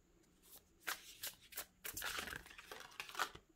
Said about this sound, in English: Okay, cards are flying.